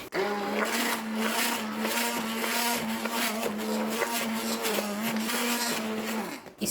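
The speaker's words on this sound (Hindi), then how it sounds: "इस तरह से अब इसमें मैं हैंड ब्लेंडर चला के चलाऊंगी" A hand blender whirs continuously at a steady pitch through custard ice cream mix, loud and close, cutting off sharply near the end.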